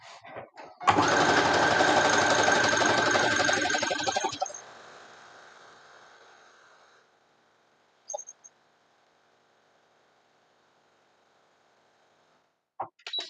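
A sewing machine stitches back and forth in a loud, steady burst lasting a few seconds, then winds down into a quieter hum that fades to silence, with a few isolated clicks afterward.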